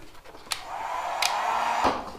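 Heat gun blowing hot air onto Rocket Bunny widebody plastic for a Scion tC, a steady whooshing roar up close, punctuated by a few sharp clicks and knocks as the panel is handled.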